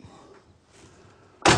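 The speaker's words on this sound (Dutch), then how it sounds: "Voilà, de deur van de auto is toe." A car door swings shut with a single loud, solid slam near the end, after a short stretch of quiet room noise.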